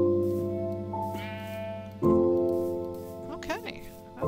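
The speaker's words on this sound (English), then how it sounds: "God, look at all these sheep." A few sheep bleat in Minecraft in wavering, nasal calls, mixed with a steady tonal game background and a person talking over them.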